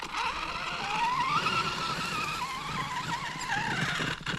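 A Kyosho FO-XX radio-controlled car driving on pavement at Sacré-Coeur with its wheels spinning and skidding, giving a steady whirring motor whine with rising and falling pitch and scraping tire noise, continuous and close throughout.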